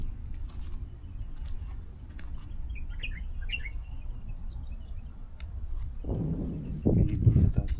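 Birds chirp in the trees of Alareej Park in Riyadh. Faint, scattered tweets sound from a distance over outdoor rumble and footsteps, and louder handling noise comes in toward the end.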